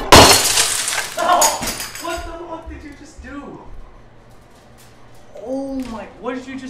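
Glass plates smash loudly at the start, a bright shattering burst followed by scattered clinks of falling shards. People then talk and shout over the fading debris.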